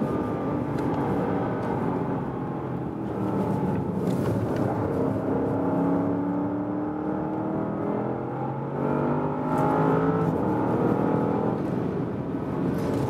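A Porsche Panamera Turbo S Hybrid accelerates hard out of a corner on a racetrack, a loud sustained engine roar that rises in pitch as it climbs through the gears.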